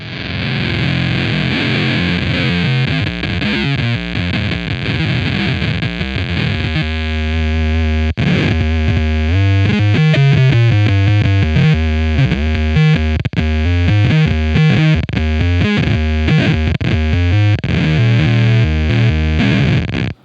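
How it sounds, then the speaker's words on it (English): A guitar through a Beetronics Zzombee Filtremulator pedal gives a loud, glitchy, distorted monophonic octave signal that warbles and stutters over sustained notes for about twenty seconds, with no talking. "So you can hear it's really glitchy and really cool sounding. That is our octave signal."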